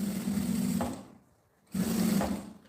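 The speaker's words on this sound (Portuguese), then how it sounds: "retrocesso e vamos costurar" A sewing machine runs a short reverse stitch on a toiletry case, two brief steady whirring bursts with a humming motor tone, split by a pause of about one second.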